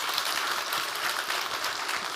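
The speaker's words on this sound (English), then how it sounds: "big round of applause for Sophia then" An audience at a conference day gives a speaker named Sophia a round of applause: a full, sustained crowd clapping that stays loud and steady without talk over it.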